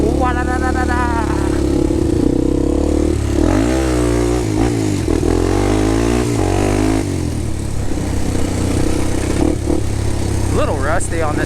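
Honda 400EX ATV engine revving and bogging as it is ridden through turns, a loud rasping motor rising and falling in pitch close by, with voices talking over it.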